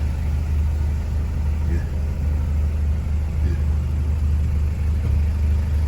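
A Toyota BJ40 that has sat unused for seven months in Pakistan is put in gear and starts rolling, its engine a steady low rumble throughout. Someone talks over the engine.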